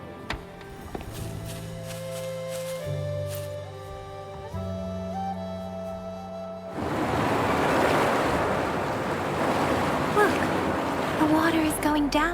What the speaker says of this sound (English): The water is going down.